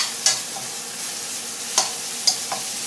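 Curry paste being stir-fried in a pan for pork soft-bone dish, a quiet sizzle with a few sharp scrapes of the spatula against the pan at irregular intervals, close by and without speech.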